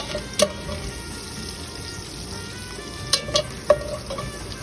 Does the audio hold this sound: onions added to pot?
yes